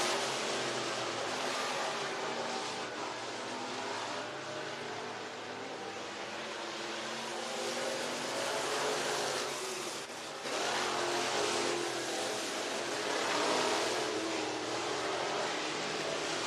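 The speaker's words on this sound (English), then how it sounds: "Hot lap qualifying with the Great Racing USA Modifieds here at the Talladega Short Track" Modified race cars roar through hot lap qualifying at the Talladega Short Track, their engines a broad, steady, fairly distant rush that swells and fades slightly as they pass.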